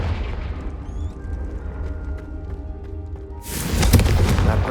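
A Confringo blasting curse in Hogwarts Legacy erupts into a loud, broad explosive burst after a tense rumbling stretch, the blast roaring on to the end.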